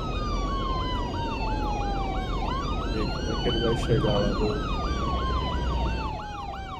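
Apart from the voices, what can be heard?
ambulance siren in Cities: Skylines 2 video game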